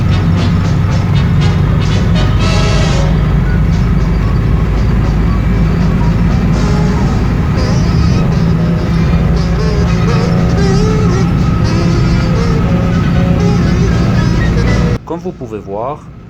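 A Citroën 2CV AK cruising at 70–80 km/h: a steady, loud engine and road drone heard from inside, with someone talking over it, and the noise dropping away abruptly near the end.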